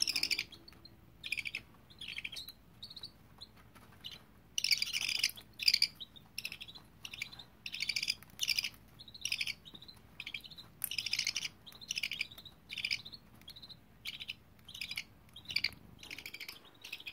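Baby budgies chirp in rapid, repeated high-pitched bursts, quiet and close, a continuous chatter of short calls with brief gaps throughout.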